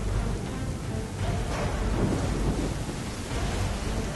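Storm in the Assassin's Creed 3 video game at sea aboard a sailing ship: steady heavy rain and rumbling thunder fill the whole span at a constant roar, with no talk.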